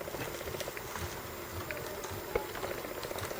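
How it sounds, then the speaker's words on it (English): Hot water poured onto dry sage and onion stuffing mix, a steady close bubbling, fizzing hiss of liquid soaking into crumbs, continuous with faint crackles. "Now I'm just going to put hot water on it"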